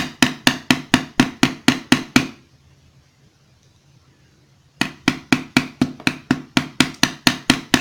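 Metal pieces hammered while ball-end riveting an earring: a fast, even run of sharp taps, then a pause of near silence, then the rapid taps resume, close and loud.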